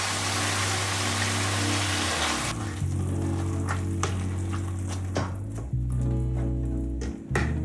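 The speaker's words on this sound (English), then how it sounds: "Next, we smash tomatoes with the spatula." Tomatoes sizzling in a pan during home cooking, with a loud hiss that drops after a couple of seconds. Scattered clicks and scrapes follow as a spatula presses and smashes them, and there is no talking.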